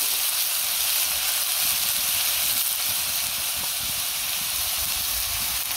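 Vegetables hit hot oil with a loud, steady hiss and sizzle in a home kitchen pan seasoned with panch phoron and green chillies, a dense crackling wash that continues without pause.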